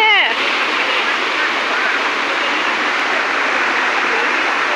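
A monsoon mountain stream and waterfall at Jatashankar Mahadev near Junagadh rush loudly and steadily close by, a dense continuous roar, with a voice briefly heard at the very start.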